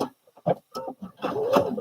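A sewing machine foot pedal gives short, irregular creaky squeaks as it is pressed down, close and fairly quiet, with gaps of silence between them.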